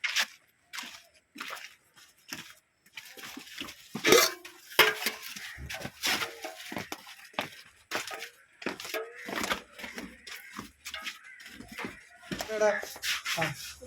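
Water vessels and dishes are handled in a home kitchen: a scatter of short metallic clinks, clatters and scrapes, some sharp and close, with brief quiet gaps between them.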